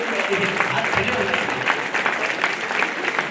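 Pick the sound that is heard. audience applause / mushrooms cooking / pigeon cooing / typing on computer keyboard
audience applause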